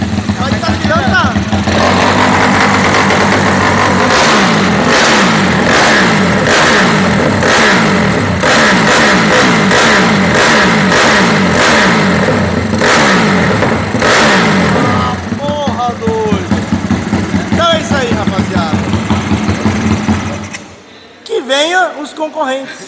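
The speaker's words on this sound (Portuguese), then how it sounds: "Quero só pelo giro do motor, o bagulho é piratão mesmo, né?" A modified 190 cc motorcycle engine revs loud and close, rising and falling in repeated bursts for most of the clip before cutting off abruptly near the end, with people talking over it.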